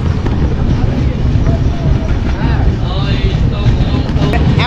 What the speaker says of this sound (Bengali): আমাদের ট্রেন কিন্তু ছেড়ে দিল রামনগর হল থেকে